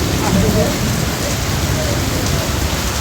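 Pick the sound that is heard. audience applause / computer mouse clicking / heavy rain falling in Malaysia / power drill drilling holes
heavy rain falling in Malaysia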